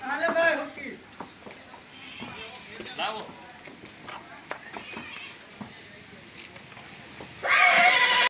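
A stallion on a farm in Porbandar gives loud whinnies and snorts near the start and at the end, with scattered knocks and movement noises between them.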